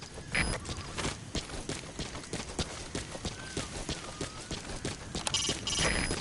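Horse hooves clip-clopping in the open wilderness of Metal Gear Solid V, a quick steady run of thuds with noisy game ambience around it.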